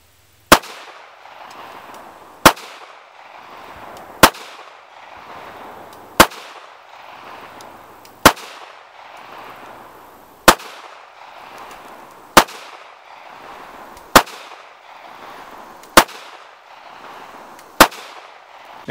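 A Bersa Thunder 380 Plus pistol fires eleven sharp, evenly spaced shots about two seconds apart, each crack loud and close with a short echo tail.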